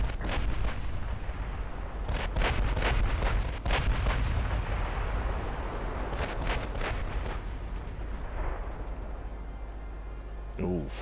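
Battleship main guns firing armour-piercing shells in the naval game Ultimate Admiral Dreadnoughts, USA 1952 campaign: repeated loud booming salvos in clusters over a constant low rumble, with someone talking over them.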